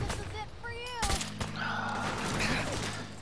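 Gunfire in the Fallout 4 video game, a sharp shot followed by rattling bursts and game effects, with speech mixed in.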